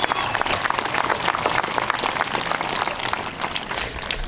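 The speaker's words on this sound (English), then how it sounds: "Big round of applause for that." Dense, steady applause from a graduation audience, many hands clapping in a continuous wash at moderate loudness with no break.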